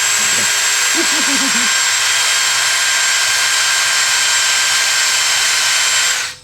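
Compressed air blasts steadily and loudly off a lacquer-thinner-cleaned flex plate from a 426 Hemi Mopar crate engine, a continuous hiss that holds for about six seconds before cutting off, with brief low tool noise near the start.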